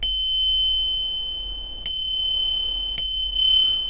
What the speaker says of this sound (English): Little cute bell.